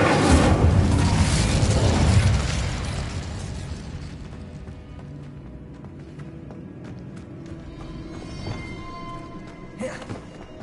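A burst of Incendio fire spell casting in Hogwarts Legacy, a loud whooshing roar that fades after about two seconds, followed by quieter magical crackles and a brief flare near the end.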